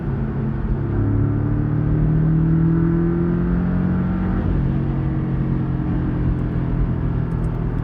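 A Porsche 718 Cayman S engine drones steadily in fourth gear at about 4000 rpm with the exhaust valve closed, a loud, even cabin rumble with a low hum that holds throughout.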